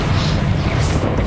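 A Bombarda blasting spell detonates in Hogwarts Legacy, a dense booming roar that stays loud and steady throughout with no clear single impact standing out.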